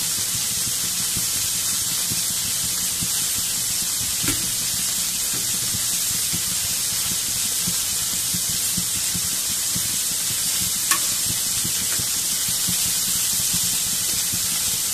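Onion and garlic sauté in oil in a pan, a constant even hiss of frying that runs on for a long stretch, with a couple of faint utensil taps and no voices.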